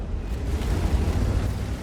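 Tank cannon fire landing on targets in a World of Tanks-style tank game, Gryphon on the El Halluf map: a dense, continuous low rumble of booming impacts that stays loud and steady throughout, with no clear gaps between hits.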